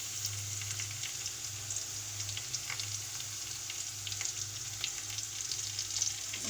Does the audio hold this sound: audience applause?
no